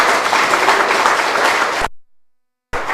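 Church congregation applauding with dense, loud clapping that fills the first two seconds, then cuts abruptly to silence before a brief burst resumes at the end.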